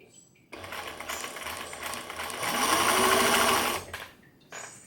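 A Singer 107W1 sewing machine with a broken belt stitches a big zigzag, giving a steady close mechanical whir and clatter for about three seconds. It rises in pitch and speed toward the end, then stops abruptly.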